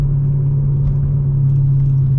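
BMW E92 M3 engine on a canyon drive, a loud steady droning rumble heard from inside the car with no talk.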